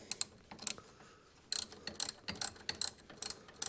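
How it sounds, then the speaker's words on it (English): A ratcheting wrench backs a bolt out of a Polaris Ranger 800 axle, clicking in quick close bursts of rapid ratchet ticks separated by brief pauses, with no talking. "As I back it out, it's gonna end up pinching the wrench into it"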